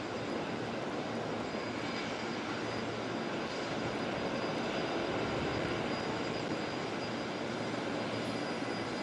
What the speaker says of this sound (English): KDS, you can hear the arrivals but see the departures.